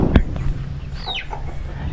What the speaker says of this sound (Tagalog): At meron din itong mga alaga ng manok oh.